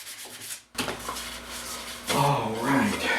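A mulberry wood dial caliper case is lightly sanded with 220 grit sandpaper, with steady close rubbing strokes broken by a short pause, while a voice talks over part of it.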